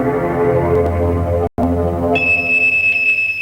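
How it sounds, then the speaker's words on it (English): A smoke alarm's piercing high electronic tone cuts in after a buzzing low hum and a brief dropout, continuing steadily and loud to the end. "Get a smoke alarm."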